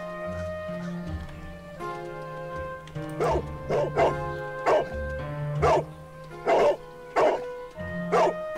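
A dog barks in the Sherlock Holmes: The Devil's Daughter video game, a series of about six sharp barks at regular intervals over a steady musical background.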